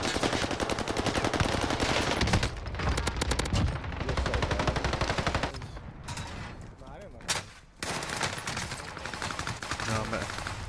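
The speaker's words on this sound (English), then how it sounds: "They're shooting bodies?" Rapid automatic gunfire in the video game Call of Duty on Rebirth Island, loud bursts of fast shots with brief pauses and a few sharp single cracks, under an occasional voice.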